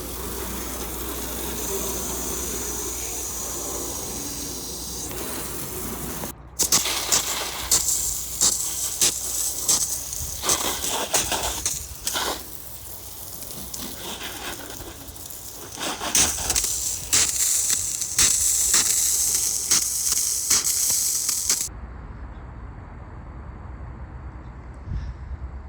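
A pressure sprayer hoses road salt off a 1956 Plymouth wagon, a loud continuous broadband hiss that surges and fades as the spray moves, close up, then cuts to quieter background.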